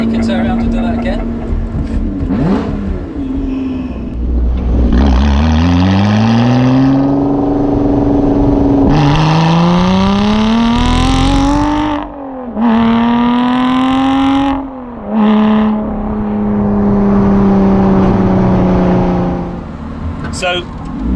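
A Lotus Exige 430 Cup Type 49 engine revs and accelerates hard from inside the car, rising through several gears with loud climbing pitch, brief dips at shifts, and people talking over it.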